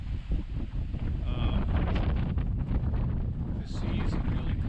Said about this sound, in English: we're still getting good wind